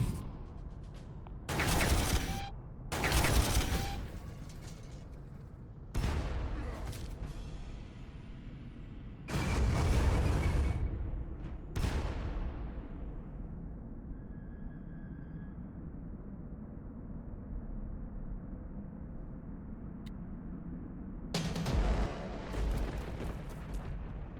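Indirect fire weapons shooting in Warhammer 40000 Armageddon: several loud, booming artillery blasts come in irregular bursts, each trailing a rumbling decay, with a long gap of low background rumble before a final pair of shots.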